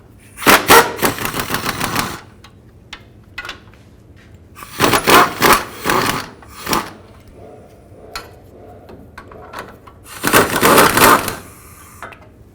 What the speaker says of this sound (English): Use a 15mm socket. Take these nuts off.